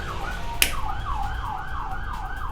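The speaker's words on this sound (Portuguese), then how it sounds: "Uma ambulância, gente." An ambulance siren wails in a steady, repeating up-and-down sweep throughout, fairly close and loud, with one sharp click near the start and no talking over it.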